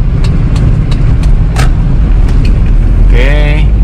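A 2002 Toyota Kijang LGX 2.0 EFI driving in second gear, a loud steady low engine and road rumble throughout, with someone talking briefly over it.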